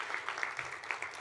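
Audience applause at a college science and mathematics senior awards banquet, a steady wash of clapping from a crowd that carries evenly through the moment without pause.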